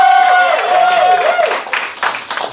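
Crowd at a New York battle rap event clapping and cheering loudly for a competitor named Diego, with a whoop at the start; the applause is dense and close, then thins out toward the end.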